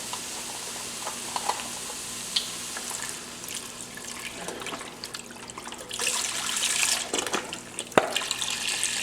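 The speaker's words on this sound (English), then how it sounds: "we are going to add 1 container of beef broth" Beef broth pours into a pot of cooked onions, a soft steady liquid splash and trickle with a few clinks of the container and pot and a heavier glugging pour near the end.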